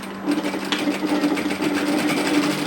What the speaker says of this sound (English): And we're going to stitch.